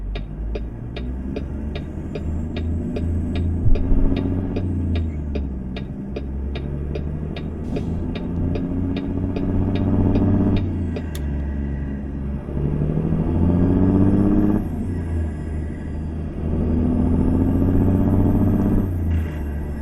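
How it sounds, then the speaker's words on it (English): Kenworth T600 truck with an N14 engine in American Truck Simulator: a loud, deep engine rumble, a rapid staccato jake-brake chatter at the start, then several rising and falling revs as it shifts through gears. "I like the sound of that motor and that jake brake"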